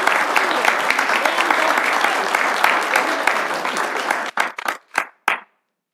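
Applause at a school board meeting for Jessica: a sustained, dense round of clapping from the room, loud and even, then thinning into a few scattered final claps before silence.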